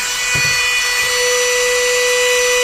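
A Ryobi rotary tool runs flat out at its rated 35,000 RPM, giving a loud, steady, high-pitched motor whine that holds unbroken for the whole stretch, with a couple of faint low knocks near the start.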